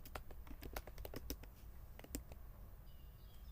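Typing on a computer keyboard: a quiet run of quick, irregular key clicks, dense at first, then sparser and stopping near the end, over a low background hum.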